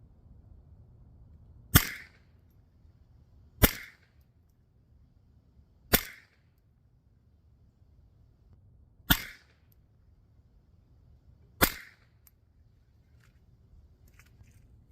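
Five rifle shots firing CCI ammunition at a 25-yard target during a scope zero, each a sharp crack spaced roughly two seconds apart over a low steady background hum, with no talking.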